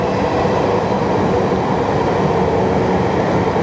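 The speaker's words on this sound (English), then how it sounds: "The railway behind me" A train rumbles past close by on the railway behind a lake bank, a loud, steady roar of wheels and carriages that holds for several seconds with no voices.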